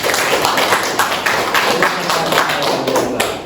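Schoolchildren in a classroom give a brief round of rapid, dense clapping, fairly close and steady, trailing off near the end.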